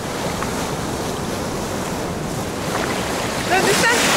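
Sea waves wash steadily onto the beach at Mehuín, Chile, a continuous broad surf roar mixed with wind buffeting the microphone, with faint voices near the end.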